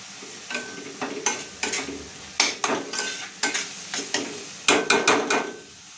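Dried fish (sukat) roasting in a pan with tomato, masala and coriander, stirred with a utensil that clacks and scrapes against the pan in uneven bursts, some in quick clusters, close and loud without talk.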